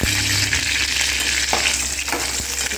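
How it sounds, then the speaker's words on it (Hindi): Green chillies hiss and crackle in hot oil and ghee left after frying potatoes, a steady loud sizzle over low heat with a few soft pops and spoon knocks, close by and with no talking. "अब इसी ऑयल में हम मिर्ची डालेंगे"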